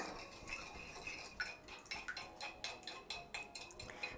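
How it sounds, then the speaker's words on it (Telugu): A whisk or spoon beats an egg, sugar and milk mixture for French toast in a bowl, clinking against the sides in a steady, quick rhythm that runs throughout at moderate loudness, with no voices. "బీట్ చేయండి. ఇదేంటి అంటే ఎగ్, షుగర్, మిల్క్ అంతా చక్కగా ఒక కన్సిస్టెన్సీ ఫామ్ అవ్వాలన్నమాట."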